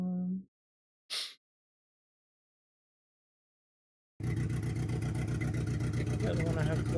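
After a brief burst of speech and a short whoosh, then silence, a car engine in a touge racing game idles with a loud, steady, rumbling throb that continues to the end.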